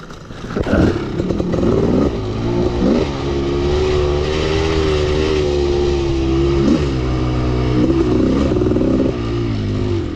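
A Kawasaki KX500 motocross bike revs hard through the gears, its loud two-stroke engine note climbing, dropping at shifts and climbing again, close to the listener with no voices.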